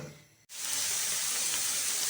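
Potatoes and finely chopped onion fry in a pan for an egg-and-potato curry, a dense, loud sizzle that swells in abruptly after a brief quieter moment and then holds steady.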